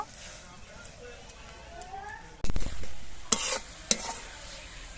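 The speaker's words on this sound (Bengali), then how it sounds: "সর্ষে বাটা দিয়ে অল্প একটু সময় রান্না করে এনে নেব" Radish stems cook with mustard paste in a pan, giving a low simmering sizzle. Faint speech sits early on, then a loud stir and a few sharp spoon-on-pan clinks follow.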